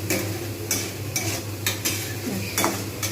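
Ground coriander and cumin roasting in a pan, stirred with a metal utensil: steady scraping and clinking strokes over a faint low sizzle, repeating every half second or so.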